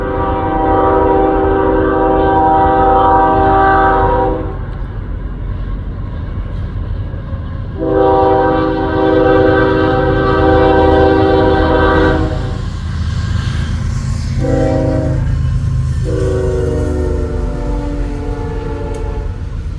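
A westbound Union Pacific manifest freight train passing close and loud, its rumble steady throughout as the horn blows a long blast, then another long one, then a shorter and a longer one.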